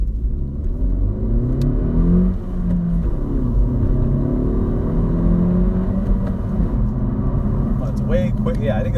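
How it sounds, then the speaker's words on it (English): A 2019 Honda Civic Si Coupe engine revs in sport mode, rising and falling in repeated climbing sweeps from inside the car, with some talk over it. "I think it revs a lot more easily with the sport mode"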